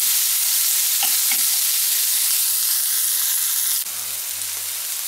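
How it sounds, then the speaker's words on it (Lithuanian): Onions sizzle and fry in a pan, a loud continuous hiss with occasional soft stirring clicks, the sizzle cutting out near the end to a quieter background hum. "Ir apkepam, kol suminkštės ir pageltonuos truputį."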